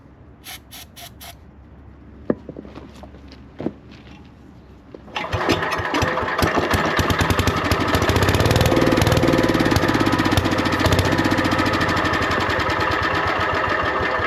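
A Lincoln Weldanpower welder's engine, left sitting 12 years and now running on starting fluid, gives a few sputters and pops before catching around five seconds in and settling into a loud, steady close-up roar.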